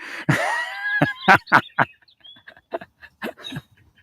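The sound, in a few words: birds chirping outdoors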